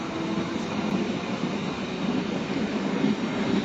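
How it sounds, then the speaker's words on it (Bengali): A train pulling away from Goghat station, a steady broad rumble that holds at an even, moderately loud level throughout with no voices. "এই মুহূর্তে সকাল 7:30টার ট্রেন ছেড়ে যাচ্ছে গোঘাট থেকে।"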